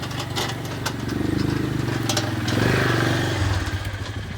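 A four-wheeler fitted with a plow pushes stumps across a yard, its engine droning steadily and close throughout, rising slightly partway through with some clattering on top.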